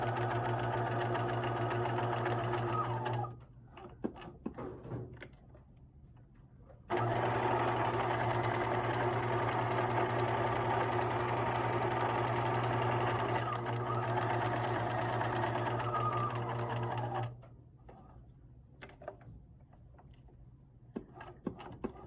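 A sewing machine stitches a pocket zip wallet with a contrast top band. Two long runs of steady, fast mechanical whirring and clatter are separated by a brief pause with faint handling noise.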